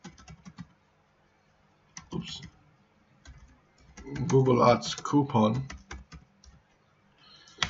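Typing on a computer keyboard, heard as scattered soft clicks in short bursts, with someone talking over much of it.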